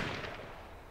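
One faint, distant gunshot in the battle royale game H1Z1, a short sharp burst that quickly decays into a soft rumbling tail.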